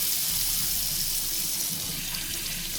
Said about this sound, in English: make sure you're rinsing with cold water